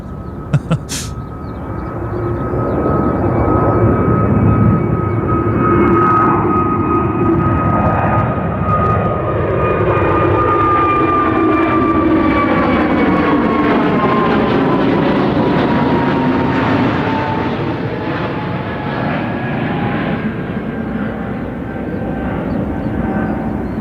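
An airliner departs London Gatwick Airport, its engines building to a loud, sustained roar with a sweeping whine that slowly shifts pitch as the aircraft accelerates and passes.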